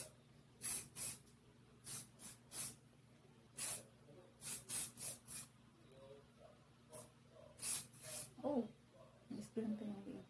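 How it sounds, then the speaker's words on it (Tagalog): Repeated short bursts of aerosol hairspray, about a dozen quick hisses spaced irregularly, applied to hair being set into curls with rubber bands, fairly close, with someone talking softly in between. "Lalagyan ko siya ng hairspray para hindi siya"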